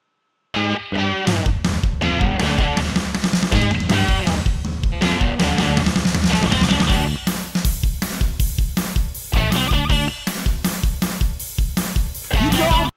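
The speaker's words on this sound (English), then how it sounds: "Now, there's the wonderful guitar track." A bright, trebly electric guitar plays a busy riff with reverb, loud and continuous after a brief silent start.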